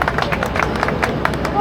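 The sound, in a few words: applause for the co-driver at an off-road festival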